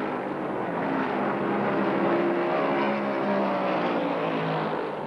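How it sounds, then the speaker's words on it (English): Stock race cars at the 1971 Daytona 500 drone in a dense, sustained engine roar, loud and steady as the pack runs together in the draft, with no talk. "Baker tucks into Petty's draft, and both cars move away from the other front-running challengers"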